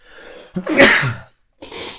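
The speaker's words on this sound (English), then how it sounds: "oh no, I have to sneeze" A single loud sneeze with a sharp intake of breath, followed by a short pause and soft breathing or rustle afterward.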